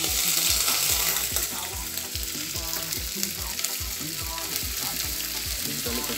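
Onion, garlic and scotch bonnet fry in a hot pan with a steady close sizzle and rhythmic scraping stirs throughout.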